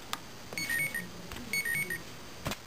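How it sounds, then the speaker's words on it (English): Calendar alert tone from a fourth-generation iPod Touch, sounding as two or three short bursts of bright, repeated electronic chimes. Faint room noise sits beneath it, with a sharp click at the end. "Calendar alerts on the fourth gen iPod Touch."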